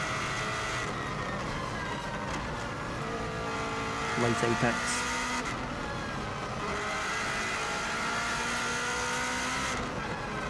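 A 2016 Subaru WRX STI races the Isle of Man TT course toward Glen Helen, its engine droning loud and continuous from inside the car, pitch climbing and falling through gear changes, while someone talks over it.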